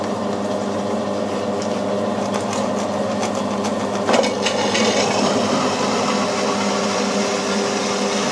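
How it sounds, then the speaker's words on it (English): Continuous low whirring of a slow-turning hole saw, with a brief scraping bite midway as the cutter engages copper, then steady grinding. "These hole saws must be run very slow."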